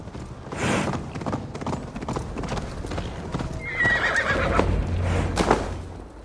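Hooves clip-clop in a steady gallop while a horse neighs loudly partway through, with faint voices in the background, in the video game Assassin's Creed Valhalla.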